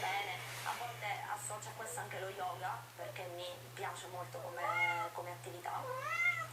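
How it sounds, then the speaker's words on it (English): A cat meows repeatedly with rising and falling cries, fairly close and clear, while someone talks over it about a Magic card game and a steady low hum runs underneath. "Stop meowing, Dolly."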